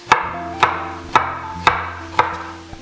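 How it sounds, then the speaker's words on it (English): Garlic chopped roughly with a knife on a cutting board, five sharp, evenly spaced thuds about half a second apart, close and clear with no talking. "just give it a quick once over with your knife to help the blender out"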